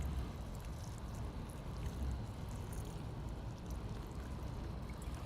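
Water pours steadily and softly onto the soil around a newly planted tomato in a family garden plot. It makes a continuous low splashing wash from start to finish, with no one talking.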